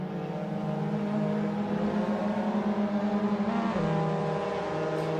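Mazda MX5 race car in Assetto Corsa, running the 2021 Mazda MX5 Championship at Donington: a steady buzzing engine note with a pitch drop near the end as it shifts or brakes, close and continuous.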